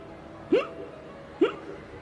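Two sharp hiccups about a second apart, fairly close and loud over a faint background hum, with no speech.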